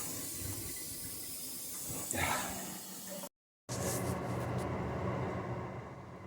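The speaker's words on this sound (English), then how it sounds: "That is water running out." Water hisses and runs out from a leaking rear outlet toilet with a bad sealing ring, a steady rushing flow with a short gap and a brief splash, and a voice speaks over part of it.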